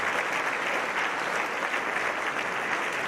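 An audience claps together at a talk about the Kargil War, producing a dense, steady roar of applause that holds at an even level throughout.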